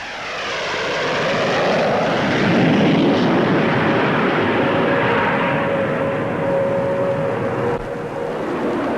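A Gloster Javelin delta-wing fighter with two Armstrong-Siddeley Sapphire jets passes at an air show, a loud roaring swell that rises, peaks and holds with a shifting whine as it goes by.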